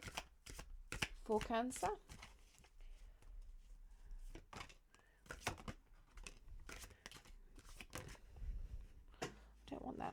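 Tarot cards are shuffled in short riffling bursts, close and crisp, while someone speaks softly between them.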